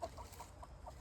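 Hens on a farm cluck at breakfast time, several quick soft clucks in close succession, faint and near.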